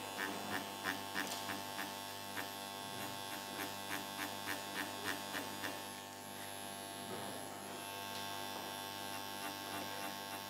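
Rosa Root mini tattoo machine running a four-needle module, a steady close electric buzz with a faint rhythmic pulsing that briefly dips midway, no talk.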